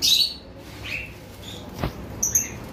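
Small pet birds in a seller's aviary of pairs give a few brief, high chirps and tweets, spaced out over a quiet background, with one sharp click in the middle.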